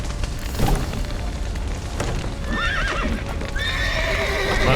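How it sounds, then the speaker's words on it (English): Horses whinny loudly several times over hoof clatter and a rumbling background, the neighs rising and falling in pitch, in the video game The Witcher 3. "Letting the horses out."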